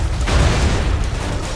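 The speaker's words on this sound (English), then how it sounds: "Random Michael Bay explosion is random." An explosion in the Goat Simulator video game, a loud close boom with a dense rumbling blast that sustains for over a second.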